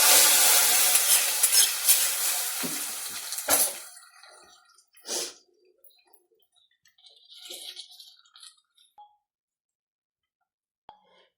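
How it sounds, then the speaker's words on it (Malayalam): A fried onion tempering goes into a raw papaya pulissery curry: a loud hissing sizzle for several seconds that cuts off abruptly, followed by quiet stirring, soft plops and a few faint utensil clinks. "ഉള്ളി നല്ലതായിട്ട് മൂത്ത് നമുക്കിനി കറിക്കകത്ത് ഒഴിക്കാം"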